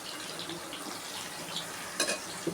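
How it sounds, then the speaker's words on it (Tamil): Onions and tomatoes sauté with salt in a pan for a fish curry, a faint continuous sizzle with a couple of brief stirring clatters. "கொஞ்சம் வதங்கிறதுக்காக கொஞ்சம் உப்பு போட்டுக்கிறேன்."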